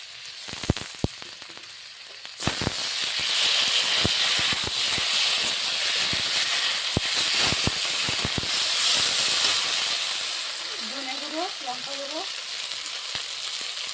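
Garlic, ginger, cumin and chili pastes hit a pan of frying onion, potato and taro for a fish curry, bursting into a loud, steady sizzle after a few sharp clatters, with scattered clicks of stirring throughout.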